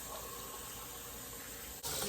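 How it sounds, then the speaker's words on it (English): Water or broth gushes steadily into the bottom of a turkey roasting pan, a continuous splashing pour that briefly stops, then swells louder and brighter near the end. "I put some water or broth in the bottom there"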